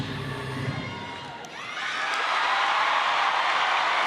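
A crowd at an Alabama versus Auburn gymnastics meet bursts into loud cheering and applause after a routine, the noise swelling sharply and holding as a steady roar, with faint talk before it.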